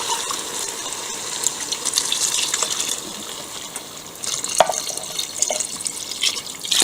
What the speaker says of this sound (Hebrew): יש לי כאן מי ברז.